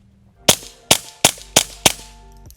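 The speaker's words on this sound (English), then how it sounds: "we have the Liberty Regulator 22." Five suppressed .22 rimfire shots through a Liberty Regulator 22 can, sharp, fairly close cracks spaced about a third of a second apart, each followed by a short metallic ring.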